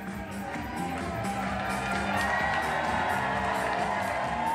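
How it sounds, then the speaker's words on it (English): A large crowd at a Glenn Youngkin campaign rally cheers and whoops continuously, a steady roar of many voices with a distant, echoing quality. "Glenn Youngkin has a pretty big crowd turning out for him on a Tuesday night"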